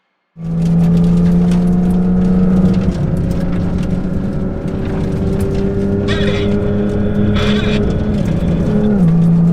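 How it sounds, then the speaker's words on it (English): Twin-turbo Porsche GT3 RS accelerating hard from a third-gear roll, its loud engine note climbing steadily from inside the cabin, with occupants shouting over it. "Let's do a third gear roll."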